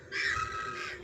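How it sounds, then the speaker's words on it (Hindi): A crow caws once from overhead, a single harsh, drawn-out call standing clear and fairly close against a quiet background. "चिड़िया ऊपर बोल रही है"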